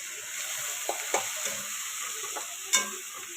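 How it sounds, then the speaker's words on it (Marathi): Ginger and garlic sizzling in hot oil, a soft steady fry punctuated by a few spatula taps and one sharp clink near the end. "आता अद्रक लसूण सर्व आता तेलामध्ये फ्राय करून घेते"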